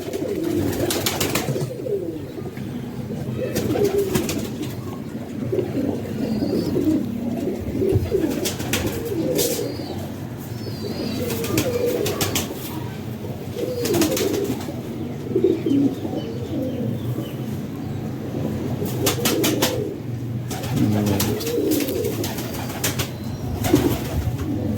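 Pigeons from a champion bloodline coo in a loft, soft throaty burbling calls repeating steadily, with occasional wing flaps, scuffles and small chirps, and no talk over them.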